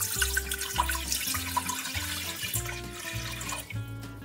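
Tap water runs in a steady, hissing stream into a kitchen pot for red lentil soup, with low humming tones running beneath it throughout.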